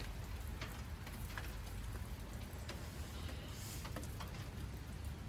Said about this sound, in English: the rain has slowed down a little bit. You can hear a bit on the roof